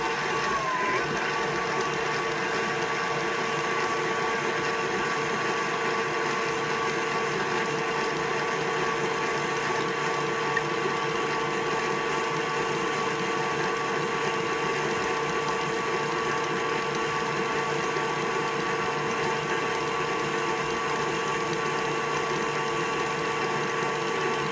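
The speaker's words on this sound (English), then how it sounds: "Now I'm going to mix this all together to form a dough." An electric mixer churns pecan cup dough made with 3 ounces of cream cheese, giving a steady mechanical whir with a faint rhythmic grind, fairly quiet and continuous throughout with no talk.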